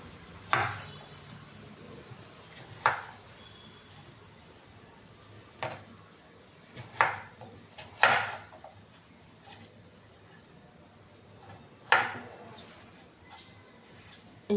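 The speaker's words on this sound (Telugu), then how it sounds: "చిన్నగా కట్ చేసుకోవాలండి" A knife chops an apple into small pieces on a board, giving faint, sharp taps that come singly and in small irregular clusters with quiet gaps between.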